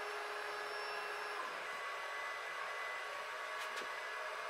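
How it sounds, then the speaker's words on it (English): A Wanhao Duplicator 9 3D printer runs with its cooling fan whirring in a steady, even drone, with faint tonal whines from the motors. "the noisiest part of it at the minute is the actual cooling fan"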